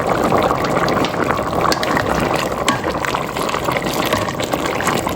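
Water pours steadily into a cooking pot of mutton curry with tomato, a dense, continuous splashing rush that stays loud and even throughout, with no talking.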